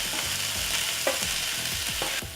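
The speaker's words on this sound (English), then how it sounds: "Stir everything to coat it all in the good spicy goodness." Food coated in curry powder and chili powder is stirred in a hot frying pan, a close, steady sizzle with repeated scraping strokes of the utensil across the pan, no voices.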